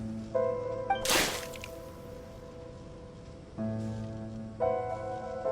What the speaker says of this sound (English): Mein Fräulein means to splash him with water.